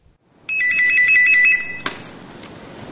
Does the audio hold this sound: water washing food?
no